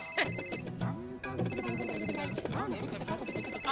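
An electronic telephone ring repeats in bursts, loud and close, over a busy background of voices.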